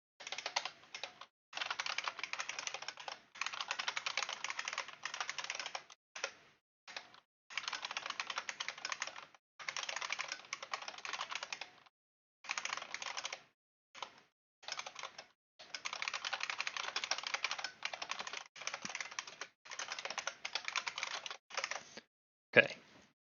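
Close, quiet typing on a computer keyboard as a simple script is written. Bursts of rapid key clicks are broken by short pauses, and no one speaks.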